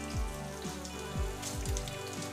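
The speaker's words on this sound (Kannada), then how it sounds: "ಇವಾಗ ಒಣಮೆಣಸಿನ್ಕಾಯಿ ಹಾಕ್ಕೊಳ್ಳಿ." Dry red chillies in a hot oil tempering with golden fried garlic crackle and sizzle continuously at a fairly low level, a soft rain-like hiss with no voices.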